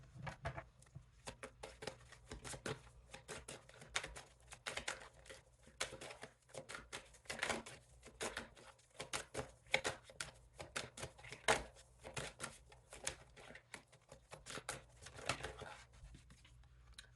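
Tarot cards are shuffled and drawn in soft, quiet riffles and snaps with little pauses between bursts, close by and gentle.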